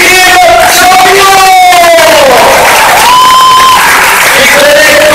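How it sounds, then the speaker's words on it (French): A packed audience at a film screening and debate greets the director with loud applause, cheers, whoops and shouted calls. The crowd noise is close and overwhelming, with rising and falling yells over continuous clapping. "je vous demande de bien vouloir accueillir ce soir de l'applaudissement au réalisateur de la crème Kim Champion"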